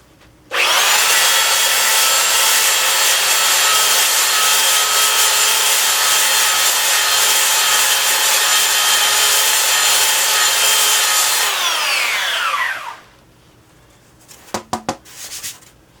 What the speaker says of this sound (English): next thing I'm going to do is sand that off with my belt sander